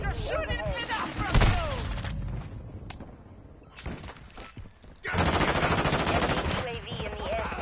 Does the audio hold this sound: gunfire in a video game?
yes